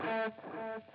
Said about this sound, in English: my first echo is going to be kind of high-endy and grainy